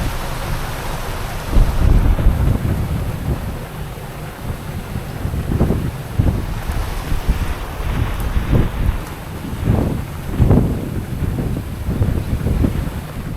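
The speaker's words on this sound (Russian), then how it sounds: "в шквале очень начальный порыв сильный" Strong wind gusts of a squall roar across the microphone aboard a sailing yacht off Anguilla, heavy buffeting surges rising and falling repeatedly over a constant rush of wind and water, loud and close, with no talk.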